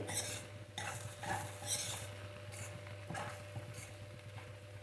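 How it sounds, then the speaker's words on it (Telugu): Ugani, a Rayalaseema puffed-rice dish, being stirred in a pan over high flame: repeated scraping and clinking spoon strokes over a low steady hum and faint sizzle, close by. "వీటిని ఒక 2 నిమిషాల పాటు హై ఫ్లేమ్లోనే ఇట్లా తిప్పుతూ ఉండాలి"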